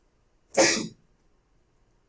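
A single sharp sneeze bursts out loud and close, lasting about half a second, then silence follows.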